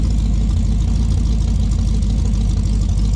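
A Dodge Dart engine fitted with an MSD ignition runs warm and steady, a loud, close, low rumbling drone with an even idle and no talk over it.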